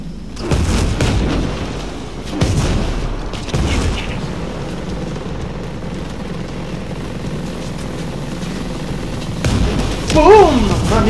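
Loud bursts of gunfire and booms in Ghost Recon Breakpoint erupt in clusters, with a steady rumble of battle noise underneath and a brief whooshing sweep near the end.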